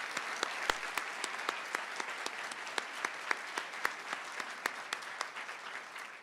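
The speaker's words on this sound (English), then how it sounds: "Let's give these 6 students another round of applause" An audience at a Montana State University nursing pinning ceremony applauds its graduates, a steady roomful of clapping with a few sharp, distinct claps standing out above the wash, fading slightly toward the end.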